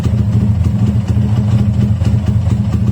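A modified SND ZS 190 motorcycle engine, a Daytona Anima replica with a rough, non-stock tone, idles loudly up close in a steady, lumpy throb with faint mechanical clatter. No talk.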